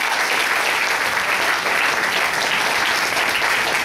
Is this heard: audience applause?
yes